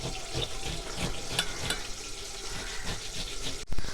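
A tomato is rubbed over a grater in quick, wet, rasping strokes, a close, moist scraping rhythm that repeats steadily, ending with a brief sharp knock.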